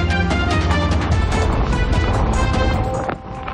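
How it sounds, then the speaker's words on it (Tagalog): Strong gusting wind lashes the coast of Oriental Mindoro after a typhoon, a loud continuous roar buffeting the microphone with rough surges and no pause. "Pia, pabugso-bugso pa rin ang hangin dito sa Oriental Mindoro."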